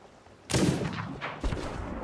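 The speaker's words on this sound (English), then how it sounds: "Oh, that's a skeleton shooting them from the island." A skeleton fires from an island at a ship in the Sea of Thieves video game: a loud gunfire blast breaks out after a quiet start, then two more fainter reports follow in a ragged sequence.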